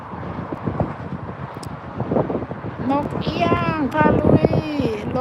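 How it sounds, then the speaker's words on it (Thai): Strong, cold wind on a sunny outdoor day buffets the microphone with a continuous low rumble, while a voice talks over it. "เสียอย่างเดียวลมนะคะลม ลมพัดตึงตึ้ง"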